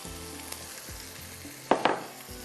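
Roasted gram flour (besan) goes into a pan of spiced mince with curry leaves, setting off a steady low sizzle with a couple of louder scraping stir sounds near the end, close to the pan.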